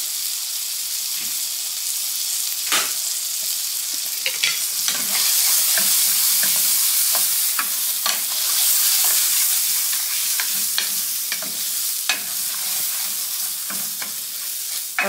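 Rice toasts in a pan for Spanish rice, sizzling and crackling steadily up close, with scraping clicks of stirring throughout and no talk.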